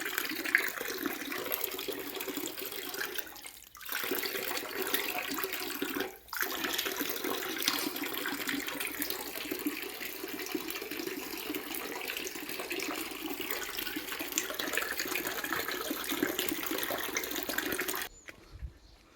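Clean water flows continuously near a temple on Thavalagiri hill, a steady rushing wash lasting nearly twenty seconds with two brief dips where it cuts out.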